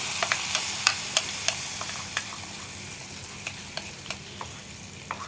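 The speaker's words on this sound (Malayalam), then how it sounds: "ഇപ്പോൾ നമ്മുടെ വറവ് നമുക്ക് കറിയിലേക്ക് ചേർത്ത് കൊടുക്കാം." Hot tempering poured into an ash gourd curry with coconut milk (kumbalanga pal curry) crackles and sizzles steadily, with a string of sharp pops and spits scattered over a continuous hiss, close and fairly loud with no talking.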